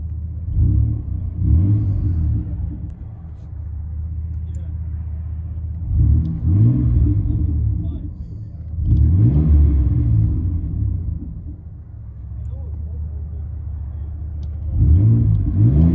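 Exhaust note of a 2001 Chevy S10 with a 4.3L V6 and Magnaflow Magnapack dual exhaust, heard from inside the cab: a low, steady rumble that swells in several revving bursts over the idle, with talk at moments.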